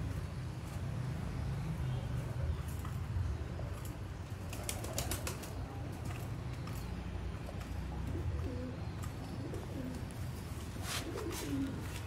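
Sialkoti pigeons coo softly in a loft, low throaty calls repeating over a steady background hum with occasional wing flaps and someone talking nearby.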